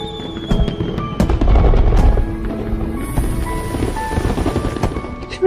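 Fireworks at a romantic night proposal scene burst in a rapid series of loud cracks and pops, with crackling bangs layered over a booming rumble and a high shimmering hiss late on.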